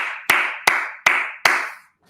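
Four sharp claps from a crowd at a political rally, each burst followed by a fading ring of applause, steady and fairly loud with no talk.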